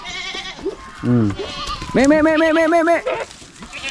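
Goats on a farm bleat close and loud, with a short wavering call followed by a longer quavering one, over rustling and a brief spoken word.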